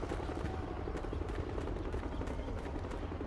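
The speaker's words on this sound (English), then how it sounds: "Fake helos." Helicopters in Metal Gear Solid 4 give a dense, steady low rumble with rapid rotor-like pulsing that holds at an even, fairly loud level throughout, with no voices.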